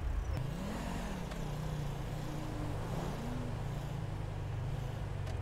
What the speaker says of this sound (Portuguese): Cara, é aquele caminhãozão passou voando ali.